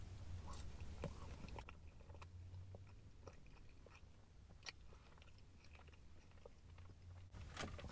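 Someone bites into and chews a KFC Zinger burger close up, with soft crunchy bites and wet chewing sounds running steadily throughout and no talking.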